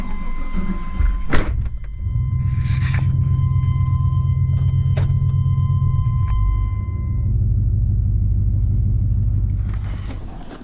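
An old pickup truck called Old Blue idles and pulls away, a low steady engine rumble close by with a sharp door clunk near the start and a few faint rattles and tones above the drone.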